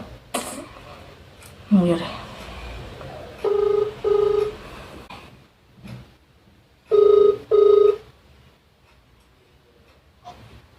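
A phone call rings through as two pairs of short electronic double beeps spaced several seconds apart, clear and close. A few brief voice sounds and faint background noise come between them.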